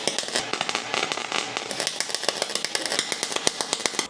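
A cheap Harbor Freight MIG welder spatters hard while welding, giving loud dense crackling and popping in fast irregular bursts that run the whole time with no voices.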